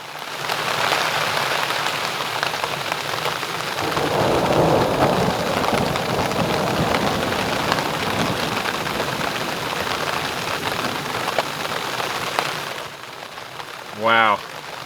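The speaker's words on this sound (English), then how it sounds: "Thunderstorm's here." Steady rain patters continuously on a creek campsite with low rumbling thunder rolling underneath, then the downpour eases near the end.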